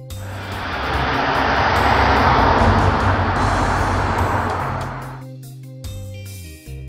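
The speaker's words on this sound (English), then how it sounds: "London taxi." A London taxi's engine swells as it passes nearby, a broad rushing drone that fades away after several seconds, leaving near quiet.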